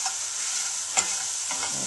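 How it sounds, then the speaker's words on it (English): Roux of oil and flour for chicken and sausage gumbo being stirred in a pot, a close steady hiss and sizzle with soft scraping strokes, no voices. "We're going to stir it."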